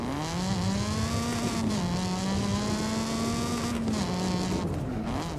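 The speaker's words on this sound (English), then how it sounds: "I think this car has like one of the raspiest exhaust notes." A car's raspy exhaust note in the Forza Horizon 5 racing game, a steady droning engine tone with small pitch dips as it shifts and holds speed, loud and alone.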